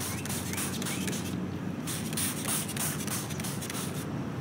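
Apple cider vinegar sprays onto metal for a rust finish in repeated soft hissing bursts of misty spray, fairly quiet and close, with faint handling rustles between squirts and no speech.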